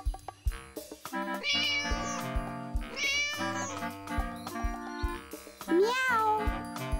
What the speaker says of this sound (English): Meow. Can you kids at home sound like a cat?